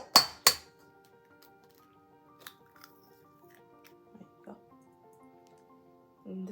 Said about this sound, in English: you crack an egg.